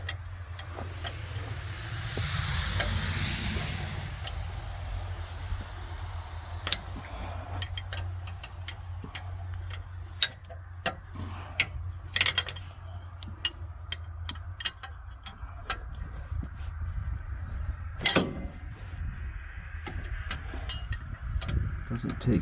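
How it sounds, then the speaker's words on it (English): A Gradall diesel engine cranks over in the cold with its injectors cracked open, giving a steady low starter drone with ticking clicks and sharp knocks, loud and close, running for most of the stretch before easing off. "crack open the injectors while we turn it over"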